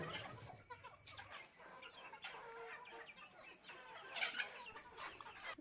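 Several chickens cluck and chatter nearby in a loose, irregular stream, with a faint crow-like call among them.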